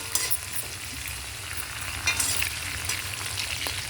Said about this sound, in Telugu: ఈ పోపు వేగుతుంది